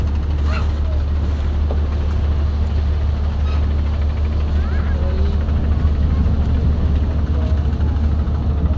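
A speedboat on a river towing another boat, its engine a steady loud drone close by with wind buffeting throughout.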